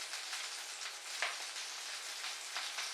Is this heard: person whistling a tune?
no